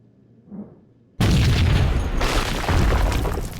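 Grenade blast in the Max Payne video game: a short faint thud, a second of near silence, then a sudden loud, close boom that rolls into a sustained roaring rumble and debris wash lasting to the end.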